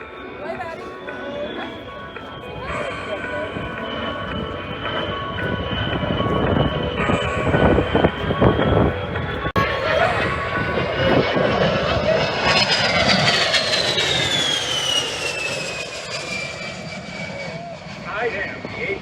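An A-10 Thunderbolt II jet flies past at an airshow, its loud whining engine roar swelling and rising in pitch as it passes close, with an announcer speaking over a public address system.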